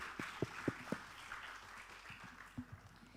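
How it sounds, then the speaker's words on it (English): A small forum audience claps for its speakers, a short, thin burst of a few distinct hand claps that fades after about a second, followed by quiet room tone and one late clap. "I think we all have to clap for ourselves and for our friends who stand up"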